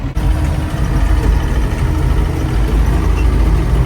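A tractor engine runs steadily during haymaking in rural Kentucky, a loud, constant low idle-like drone heard from inside the cab with no talk.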